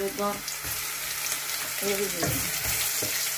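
Coral fish frying in a pan, a steady close sizzle under scattered clanks of a utensil and brief tonal bits of background sound, with no talking.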